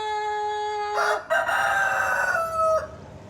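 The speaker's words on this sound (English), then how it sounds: "this chicken comes to my window and crows like that every single morning" A rooster crowing right at a window, one drawn-out cock-a-doodle-doo that rises, breaks and trails off, close and fairly loud, with no talking.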